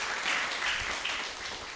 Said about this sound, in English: Please give warm applause to Professor Hidefumi Yoshii.